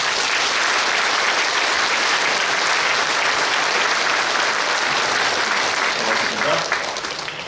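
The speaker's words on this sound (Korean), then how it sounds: "큰 격려의 박수 다시 한번 부탁드립니다" Large church congregation at a Korean Liberation Day 80th anniversary service applauding warmly, a dense, sustained roar of clapping filling the hall for over seven seconds, tapering slightly at the end.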